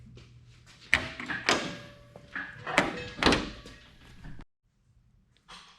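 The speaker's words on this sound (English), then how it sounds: "So now I'm just gonna throw the bumper back on, and then we'll see how it looks with the bumper." The bumper of a Lexus SC300 goes back onto the car with a series of hollow plastic thunks, knocks and clatter close by, then falls silent before a faint last rustle.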